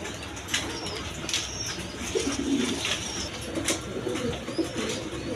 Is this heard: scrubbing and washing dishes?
no